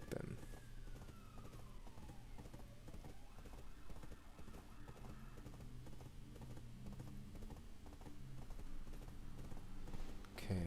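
Horse hooves clip-clop steadily while a rider travels in the game Black Desert Online, a faint, continuous rhythmic patter under a busy layer of game sound, with a siren-like tone sweeping through early on.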